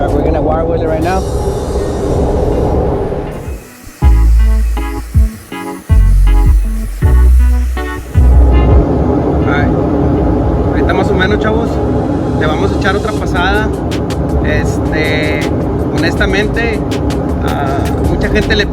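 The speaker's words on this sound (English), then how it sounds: "we're gonna wire wheel it right now" A wire wheel cleaning a weld on a 3G structural welding test plate, its loud harsh buzzing grind running almost throughout with brief gaps, while a voice talks over it.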